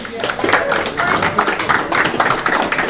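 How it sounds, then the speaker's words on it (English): Clapping from a keynote audience at a Tech Alley Henderson event, a brisk, moderately dense burst of hands from a smallish room, with voices mixed in around it. "So first of all, could you guys give Lorraine a big round of applause?"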